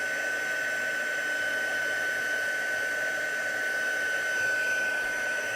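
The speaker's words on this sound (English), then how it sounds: "So I'm heating up the powder now, and then as soon as I see it melt," A heat tool melts embossing powder for stamped Christmas crafts, a constant close blowing whir with a steady high whine that runs unbroken and alone throughout.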